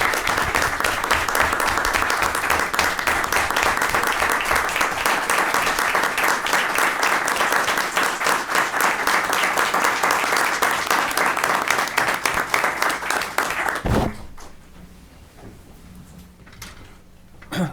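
Loud, dense applause fills a city council meeting in Milledgeville, holding steady for about fourteen seconds before stopping abruptly, followed by a quiet room with faint murmurs.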